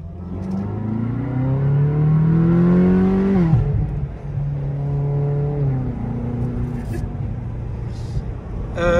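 A Ferrari California engine revs hard, rising in pitch, drops off, then revs up again, loud and close, with a brief voice near the end.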